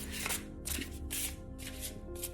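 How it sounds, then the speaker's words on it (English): A deck of playing cards being shuffled by hand, several quick riffling bursts in a steady rhythm, close and clear with a faint tonal hum underneath. "I'll just give these a little shuffle here."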